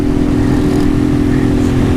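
A 150 cc motorcycle engine with an odd fault noise runs loud and close, a steady droning hum with a rough mechanical rattle layered over it, unchanging throughout.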